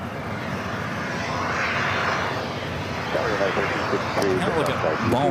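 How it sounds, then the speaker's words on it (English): An Airbus A350 airliner arriving from Seattle rumbles in with a broad, swelling engine roar at moderate distance, while a person talks over it toward the end. "Again, this A350 coming in from Seattle."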